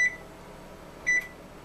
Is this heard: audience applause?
no